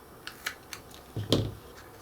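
Scissors trimming off the bottom of a strip of material on a Christmas village stairway model: a few light, quick clipping snips, then a closer, louder cut with a brief rustle, no voices.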